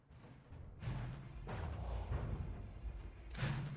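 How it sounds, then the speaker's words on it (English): In the naval combat game From the Depths, Sea Whiz close-in weapon fire produces a series of muffled booms and rumbling bursts, moderately quiet and distant, overlapping one another. "those explosions are Sea Whiz"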